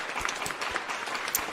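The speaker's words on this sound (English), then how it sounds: "So, just give them a round of applause." Brief, fairly faint audience applause, a short patter of clapping lasting under two seconds.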